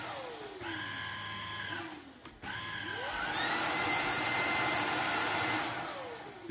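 A Greenworks stick vacuum motor spinning up, whining and switching speeds, then running loud and steady at its high setting, heard close up with no talking.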